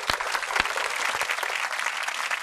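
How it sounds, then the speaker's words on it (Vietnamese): An audience claps, a dense burst of applause that holds steady for a couple of seconds with a few sharper individual claps standing out. "Vỗ tay."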